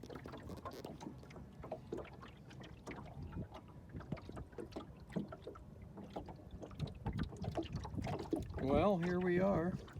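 Shellback dinghy out on the intercoastal waterway, with water splashing and sloshing against the hull under wind buffeting the microphone, and a voice briefly heard near the end.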